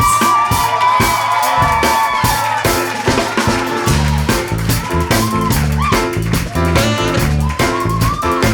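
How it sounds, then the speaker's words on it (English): An audience at an improvised jazz and spoken-word show cheers and whoops for the final guest poet, a lively crowd din mixed with music and voices, loud and close. "Guys, give a big round of applause for our final guest poet"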